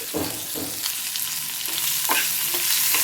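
Onions, green chillies, ginger and asafoetida frying in oil, a loud, steady sizzle close by with repeated stirring scrapes of a spoon in the pan, no voices.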